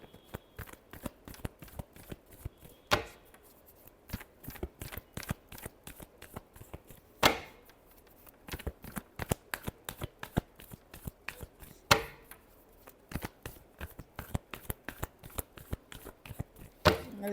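Tarot cards being shuffled by hand, a steady run of crisp riffling flicks with a few louder slaps, close and alone without talk.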